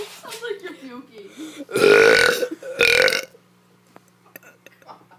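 A child lets out two loud, drawn-out burps in quick succession, preceded and followed by quieter vocal noises and whispery breaths nearby.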